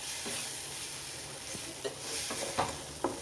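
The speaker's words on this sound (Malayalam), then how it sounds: "മുട്ട ഒഴിച്ച് അല്പനേരം കഴിഞ്ഞ് ഇളക്കിയാൽ മതി." Beaten egg poured into a hot pan for egg noodles is stirred, a steady soft sizzle with a few scraping strokes of the spatula landing at uneven intervals.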